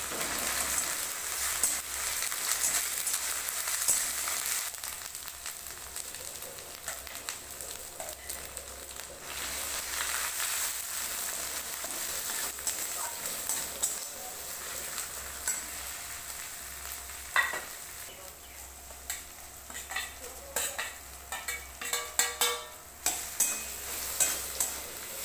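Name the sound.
spice paste and tomato being sautéed in a pan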